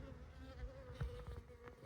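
Close buzzing of many honeybees at a hive, a steady droning hum with occasional louder passes as individual bees fly near.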